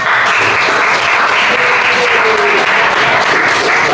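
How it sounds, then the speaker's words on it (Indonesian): Students give a teacher a round of loud, continuous applause after a classroom lesson, the clapping dense and even throughout with faint voices mixed in. "Tepuk tangan untuk Pak."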